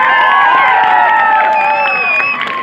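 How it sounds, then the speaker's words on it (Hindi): A large crowd claps and cheers loudly and continuously at a wedding show, a dense wash of applause with shouts rising over it, close and steady throughout. "एक बार जोरदार ताली चारों तरफ से"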